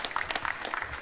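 Brief burst of clapping from a live studio audience, dense and fairly close, with no talk over it.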